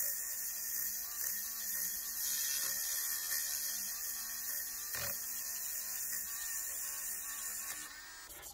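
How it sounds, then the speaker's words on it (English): Rotary tool spinning a custom sanding disc against granite to polish a statue, a steady high whine with grinding texture running throughout, fairly close and even, easing off near the end. "To use the rotary tool to help polish it, I had to make a whole bunch of custom sanding discs to use."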